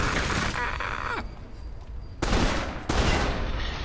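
Bursts of gunfire in the video game Alpha Protocol, loud and dense in two or three volleys with a short lull between, no talking over them.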